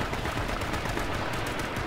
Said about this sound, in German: Oh, Schüsse, jawohl.